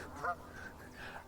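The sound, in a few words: big ducks honking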